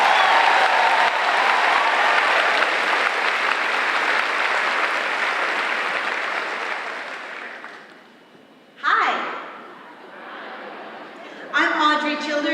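An audience at a school district back-to-school convocation gives a sustained round of applause for 23 honorees from the elementary schools. The dense clapping runs about eight seconds before fading, and a few short bursts of crowd noise follow.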